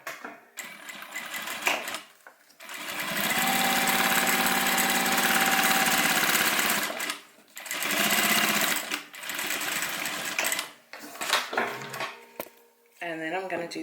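A sewing machine stitches down the side seam of a homemade airliner-style cabin bag, whirring in steady bursts of several seconds separated by short pauses, close and fairly loud.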